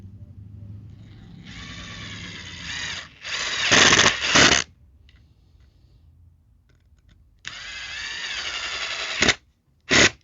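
Screws driven with a power drill into a pressure-treated wood fence board, two long whirring bursts of motor drive with short gaps, close and loud, with no talk.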